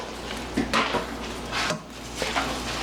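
A spoon scrapes and clinks against a pan while bacon, celery and sauce are stirred together, a few soft scraping strokes over a quiet background.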